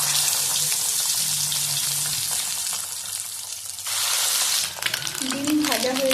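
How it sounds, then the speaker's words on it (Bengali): Eggs fry in hot oil in a pan for an egg curry, a steady close sizzle that shifts and flares partway through, with some clattering and a brief voice-like tone near the end. "ওই তেলের ওপর করে ডিম ভেজে নেব"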